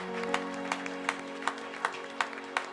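A church congregation at a Sunday service claps in a steady rhythm, about one sharp clap every third of a second. The clapping is fairly soft over sustained musical tones, with no clear cheering.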